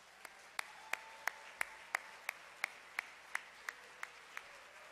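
A crowd applauds at a 2012 Human Dignity Awards dinner, welcoming the PTV executive director to the stage. The clapping is faint and distant, with sharp, evenly spaced claps about three a second rising over a soft wash of applause.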